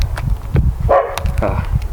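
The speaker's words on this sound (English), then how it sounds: "That dog's going to stop barking" A dog barks several times in quick succession nearby, sharp yelps over a low rumbling background.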